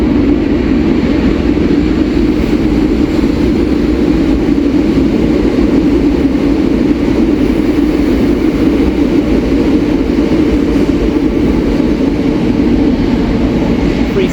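A train passes through Queens Road Peckham station at speed with a loud, continuous low rumble and roar that holds steady throughout.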